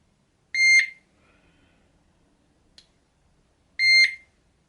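DAM TF carp fishing bite alarms give two short, bright electronic beeps about three seconds apart as each unit powers on, clean and close in a quiet room.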